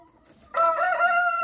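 A hen or rooster crows loudly and close up, starting abruptly after a short quiet lead-in and holding a sustained, wavering call to the end; there is no talking.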